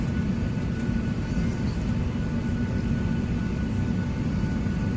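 United Airlines airplane moving on the airport ground, heard from inside as a steady low engine roar and rumble that continues evenly throughout.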